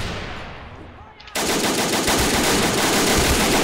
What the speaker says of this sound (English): I'm waiting for this guy to open fire.